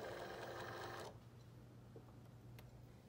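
A Cricut cutting machine loading a mat for edible image cookies gives a steady mechanical whir for about a second, then stops, leaving a quiet room with a low hum.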